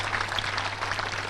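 An audience at a talk on peace in Bali breaks into applause, a brief patter of clapping over a faint low hum.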